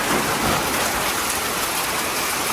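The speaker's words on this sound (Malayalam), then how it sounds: "ഭയങ്കര മഴ പെയ്തുകൊണ്ടിരിക്കുകയാണ്" Heavy rain pours down in a dense, continuous roar, close and steady throughout with no voices.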